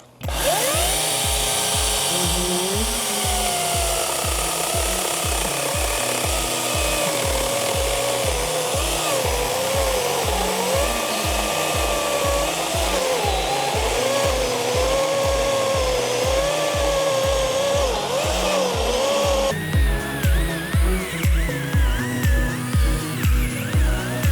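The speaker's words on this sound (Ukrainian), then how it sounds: "тепер пробуємо пилку з двома акумуляторами" A Dnipro-M DCS 201 BC cordless chainsaw with two batteries cuts steadily and loudly through a large tree stump in a forest for over twenty seconds, its motor droning with a rapid pulsing chatter, then labouring in short bursts near the end.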